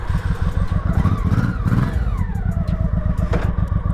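A 1986 Honda Shadow 700 cruiser motorcycle runs loud and close, its deep, steady thumping exhaust pulse rumbling with a slight rise in revs near the middle, with no talking.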